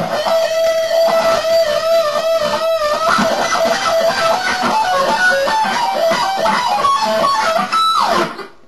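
Electric guitar with a wah pedal plays the solo part of a song, a loud, continuous lead line of sustained bends and slides that ends with an upward slide and a brief cutoff.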